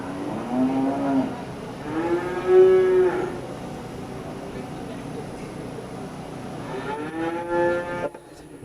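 Beef cattle moo at a county fair cattle judging show, with three long, loud lowing calls at the start, middle and end over steady arena background noise.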